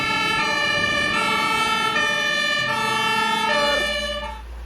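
A toy fire truck siren, found mud-caked, plays a continuous electronic wail with a repeating tone pattern, loud and close, running for several seconds before cutting off.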